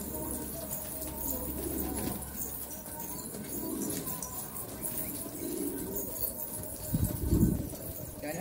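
Pigeons coo softly in low, throaty murmurs against steady outdoor background noise, with a louder burst of cooing near the end.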